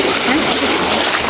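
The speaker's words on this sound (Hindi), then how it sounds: "पानी की आवाज़ें बेहद खूबसूरत लग रही थी" Seawater splashes and sloshes at Traeth Gwyn beach in North Wales, a close, loud, continuous wash of water with no clear pauses.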